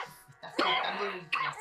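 A man coughs roughly a couple of times, close by and moderately loud, with a bit of throaty voice between the coughs.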